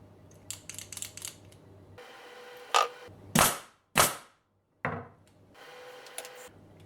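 A Ridgid finish nailer fires in continuous mode, giving several sharp, separate pneumatic snaps spaced about half a second apart, close and loud against quieter clicking and shop noise.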